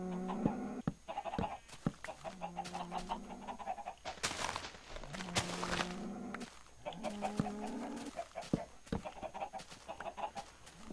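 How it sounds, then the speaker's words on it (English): Minecraft farm animals, cows among them, with chickens clucking nearby, give repeated short moos and clucks in an irregular, busy rhythm, fairly close and moderately loud, without talk. "I'm only letting the cows out."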